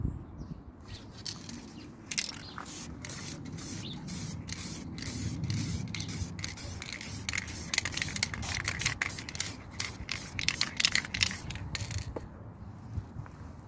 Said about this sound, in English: we just spray on some clear just to see how we finish with it